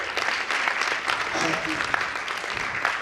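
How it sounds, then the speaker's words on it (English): Steady broadband clapping from a conference audience at a sports and exercise medicine meeting, fairly loud and sustained for the full three seconds, with a voice faintly audible underneath. "A huge round of applause for these judges, please"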